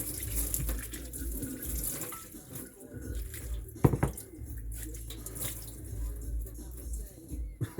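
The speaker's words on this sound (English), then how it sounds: "distilled water for the rinse." Distilled water poured out for rinsing makes an uneven splashing trickle with drips and soft liquid noises, fairly quiet and broken up by small clatters.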